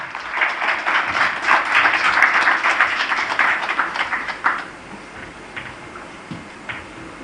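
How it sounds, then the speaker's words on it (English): An audience at a 2019 stroke summit in India applauds to welcome a minister, a dense burst of clapping that peaks early and thins into a few scattered claps before fading out. "Please welcome the Honorable Minister with a round of applause."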